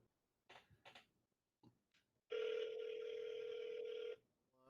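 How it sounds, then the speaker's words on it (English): A telephone ringback tone sounds on the line as a call is placed, one sustained steady tone lasting about two seconds after a few faint clicks and rustles. "I'm gonna call Willer on his phone"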